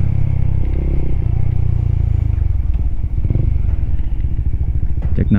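A Suzuki Raider 150 Fi motorcycle engine, warmed up, runs loud and close with rapid throttle blips and revving, a rough throbbing idle between bursts and some mechanical clatter.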